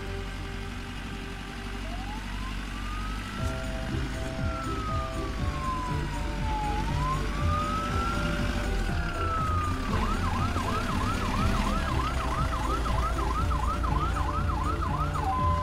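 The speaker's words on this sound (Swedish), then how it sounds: "Det här är en ambulans." Animated cartoon ambulance siren wailing loud and continuous, first slow rising-falling sweeps, then a fast warbling yelp, over steady background music with no talking.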